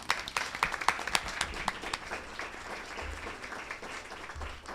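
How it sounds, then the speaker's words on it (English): Audience applause at a panel event, a dense burst of clapping that is strongest at the start and then thins into a steadier, lighter patter. "Can we have a round of applause on that one?"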